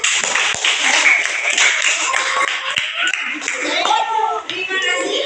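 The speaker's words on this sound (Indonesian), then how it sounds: "Mereka beri tepuk tangan dulu." A class of pupils claps during an Indonesian school lesson, a dense, continuous patter running steadily throughout, with children's voices chattering over it.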